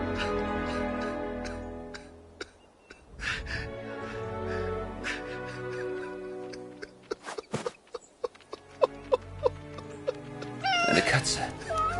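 Cat in the video game 11-11 Memories Retold, several drawn-out meows and cries mixed with soft ticking and speech, the calls rising clearly near the end.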